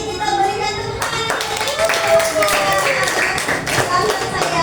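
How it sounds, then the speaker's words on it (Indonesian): An audience in a classroom or hall claps after a group presentation, a loud sustained patter of hand claps close by, with voices talking over it. "Sekali lagi kita berikan tepuk tangan."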